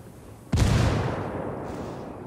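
A grenade detonates in a video game shooter match: one sudden loud blast with a broad, booming burst that lingers and fades slowly over a couple of seconds, no talk over it.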